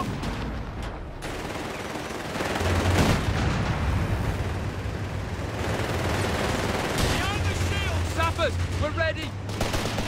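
A six-pounder anti-tank gun firing in the Company of Heroes 3 video game, heavy booming shots within a continuous din of battle gunfire, with soldiers shouting over it.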